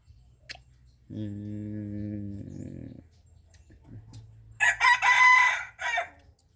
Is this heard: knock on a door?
no